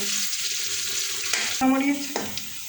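Dried red chillies and chopped garlic frying in a pan: an even oily sizzle, then a brief scraping stir partway through, close and fairly loud.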